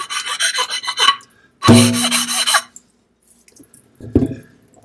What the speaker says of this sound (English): I'm going to do the same with the top. This is an easy to lap stone.